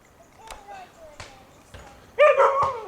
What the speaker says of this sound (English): Oh, she barking at Dante?